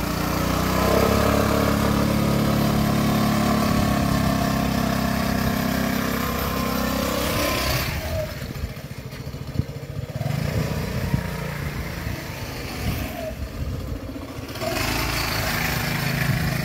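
A scooter engine runs steadily through a slow U-turn practice manoeuvre, a continuous mid-pitched drone that dips briefly and swells again as the throttle changes, close and loud throughout.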